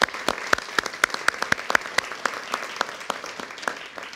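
An audience at a solar eclipse safety briefing claps for several seconds, sharp claps landing close together in a steady burst, with a few louder claps standing out.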